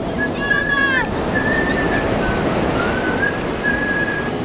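Ocean surf washes steadily along a seaside beach, a loud, broad rushing noise with wind buffeting the microphone, while a few high whistling tones come and go over it.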